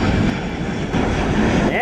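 Delta Boeing 767 jet airliner rolling off the runway, a loud, continuous engine roar close by, with a person talking over it.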